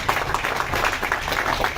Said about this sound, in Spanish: Démosle un fuerte aplauso al compañero.